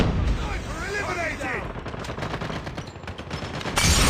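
Gunfire in the Call of Duty video game against bots, rapid bursts of shots and crackling reports running continuously at moderate level, with a brief louder blast near the end.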